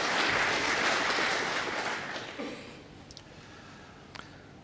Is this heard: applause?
yes